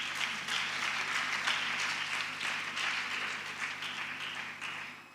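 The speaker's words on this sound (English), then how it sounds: "So let's clap for Hasty" Audience applause for a girls' education project partner, steady broadband clapping sustained at even loudness throughout before tapering slightly at the end.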